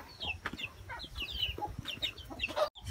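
Pet chickens on a farm in Cebu clucking before feeding, a busy flock of overlapping clucks and chirpy calls, close and lively, with brief rustling.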